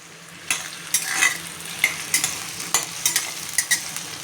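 Whole spices and bay leaves sizzle in hot oil in a pan while a spoon stirs them, with steady frying hiss and repeated scraping strokes against the pan.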